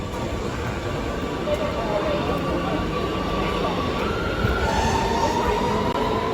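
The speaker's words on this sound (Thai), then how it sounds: "ขึ้นรถไฟใต้ดิน ของอัมสเตอร์ดัม" An Amsterdam metro train rumbles steadily along the track, a continuous loud roar with a faint rising whine toward the end.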